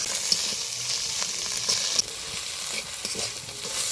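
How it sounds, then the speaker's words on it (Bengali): Catla fish head frying with onion and green chilli in hot oil, a steady close sizzle with occasional stirring scrapes and small spits, no voices. "ভালো করে এবার মাথার সাথে ভেজে নিব পেঁয়াজ লঙ্কাটা।"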